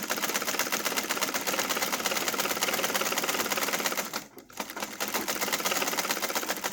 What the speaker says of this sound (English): Make sure that as you're sewing, your material is moving in a straight direction.